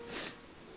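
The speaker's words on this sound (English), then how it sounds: "And I'm about to sneeze." A single sharp sneeze bursts out near and loud, a short hissing blast followed by a quieter breathy trail.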